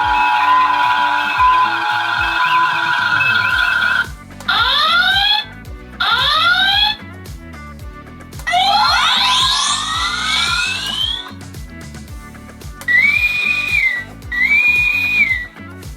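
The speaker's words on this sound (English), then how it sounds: "the last one will be ship sounds, warp, red alert, ship klaxon," A classic Star Trek toy Enterprise ship plays a run of electronic sound effects: steady warbling tones, rising swooping sweeps, and a repeated two-part klaxon near the end, each burst separated by brief gaps.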